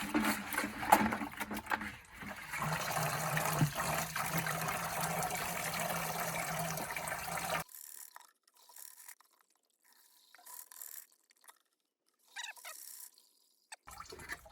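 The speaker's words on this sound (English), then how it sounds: "let's go on with the rinsing step" Water runs steadily over gold-plated PCI card edge fingers during a rinse, a continuous close splashing wash for about eight seconds, then cutting off to near silence with a few faint drips and small handling sounds.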